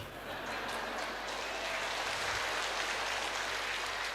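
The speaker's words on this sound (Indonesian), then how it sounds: "Bapak jangan tepuk tangan dulu Pak." A church audience claps in a dense, steady wash of applause that keeps going for the whole stretch, fairly loud and even, with faint murmuring voices underneath.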